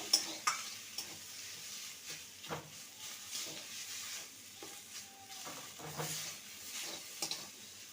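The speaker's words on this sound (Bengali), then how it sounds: "সবার শেষে দিয়ে দেবো ধনে পাতা কুচি ভালো করে নেড়ে নেব" A spoon stirs a vegetarian dish with chopped coriander leaves in a pan, soft scraping strokes over a faint sizzle, quiet and intermittent, with no talking.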